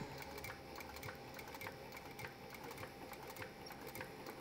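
Sewing machine stitching around the edge of a leather mouse pad, a steady fast mechanical whir with rapid needle ticks, faint and continuous, no speech.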